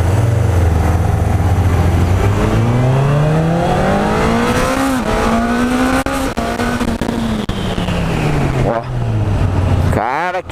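A Honda CB 1000 R motorcycle engine revs hard and climbs in pitch as it pulls away from a standstill, loud and close, with a brief shift before rising again.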